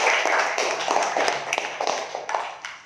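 Children in a classroom clap their hands together in a brief burst of scattered, uneven claps, close and moderately loud, fading out over a few seconds.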